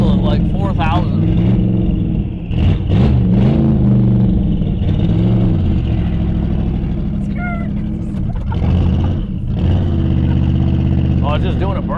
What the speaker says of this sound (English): Oh, it's just doing a burnout.